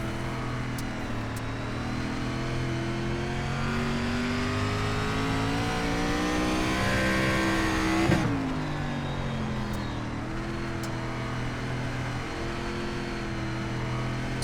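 Race cars in an iRacing SRX Series battle at Knoxville, a steady loud engine drone with shifting harmonics as the pack runs close together, a brief sharp change near the middle, then the roar continuing.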